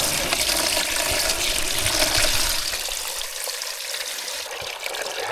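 Water pumped from a 100-year-old well pours into a 16-liter container, a steady rushing, splashing flow that holds constant throughout with no voices.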